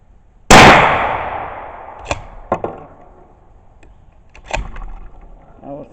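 A single sharp firearm shot cracks at an outdoor shooting range, loud and close, followed by a decaying tail and a few smaller clicks and knocks.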